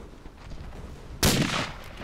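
A single sharp gunshot in the World War I shooter game Verdun, a loud sudden crack that rings out briefly over quiet ambient battlefield noise.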